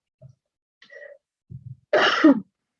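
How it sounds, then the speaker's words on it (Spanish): A single harsh cough burst, close and fairly loud, preceded by a few soft throat sounds and breaths in an otherwise quiet room. "me está entrando la tos"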